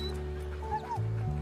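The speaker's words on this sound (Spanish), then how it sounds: "¿Ese perro de quién es?" A dog at a party gives a few short yips and whimpers close by, over a steady low hum.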